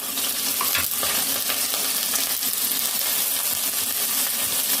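Cashews and melon seeds fry in a pan for a restaurant-style palak paneer gravy, with a continuous loud sizzle and stirring scrapes throughout.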